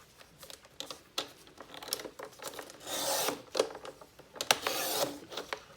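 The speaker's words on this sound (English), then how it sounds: "I wanted to trim just a teeny bit off this edge." A cutter blade trims a sliver off the jagged edge of a junk journal page, giving close, raspy scraping strokes in short bursts with a longer slicing rasp near the middle and end.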